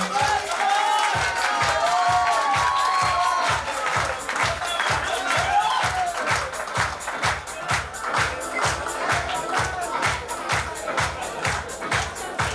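Audience at a B L Ruia ex-student association function claps loudly and steadily, the clapping falling into a rhythmic beat over a crowd murmur and some tonal sound, lasting throughout.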